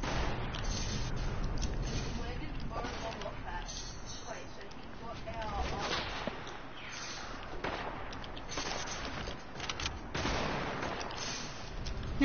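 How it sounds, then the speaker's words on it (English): Gunfire in a video game, muffled bursts of shots and distant booms spread across a dense, noisy battle soundscape while a player talks over it. "Someone shooting me."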